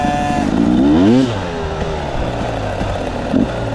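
A motorcycle engine is given a little throttle while being ridden, revving up loudly with a rising whine and then settling back into a lower running drone, close by and with no talking.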